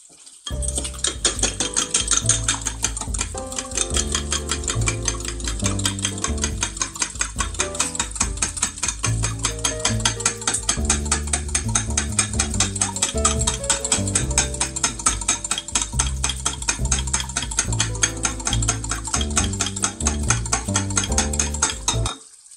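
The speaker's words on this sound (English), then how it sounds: "Excuse me while I beat my eggs" Eggs seasoned with Redmond's Real Salt being beaten in a bowl: a rapid, steady, close clatter of utensil against the bowl that runs unbroken and fairly loud, with no talking.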